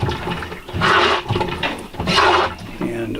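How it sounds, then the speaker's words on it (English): Hand pump drawing antifreeze from the sink of a 1936 wooden boat into the marine head, heard as two rhythmic surges of sloshing, gurgling liquid with a brief gap between strokes. "now I'm going to pump antifreeze from the sink into the head and then into the holding tank."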